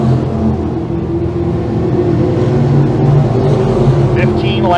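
602 crate sprint cars race around the Can Am Speedway oval, a loud continuous engine roar with a droning tone, under a race announcer's steady commentary.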